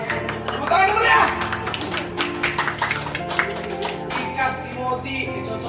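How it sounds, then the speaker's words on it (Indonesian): A group clapping hands at a church gathering, irregular claps with a few sharp taps, mixed with voices and children talking and background music. "Tepuk tangan dulu ya."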